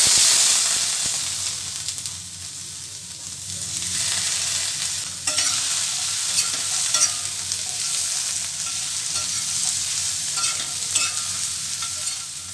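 Carrots, beans, potato and capsicum sauté in a hot pan, giving a steady loud sizzle with faint stirring scrapes throughout and no talking.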